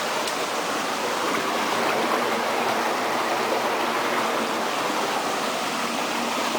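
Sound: hot factory water flowing into river

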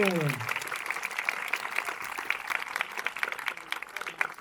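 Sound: applause for guests and teachers

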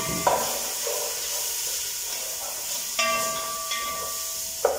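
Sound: onion and vegetables sautéing in oil

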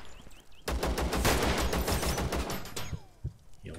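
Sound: AK rifle gunfire in the video game Zero Sievert

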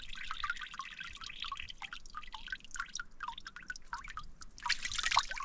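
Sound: water dripping at a spring in the caatinga

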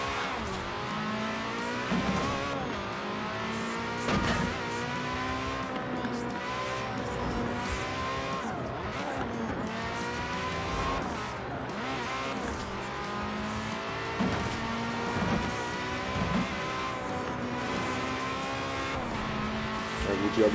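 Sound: car driving out of town in Forza Horizon 4 video game

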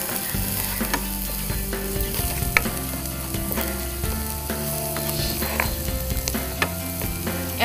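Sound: sautéing onions in a pan

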